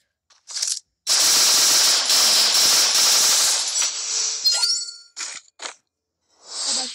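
Gunfire in the Free Fire video game, with a loud sustained burst of rapid automatic shots, then scattered single shots and metallic pings, with no talking.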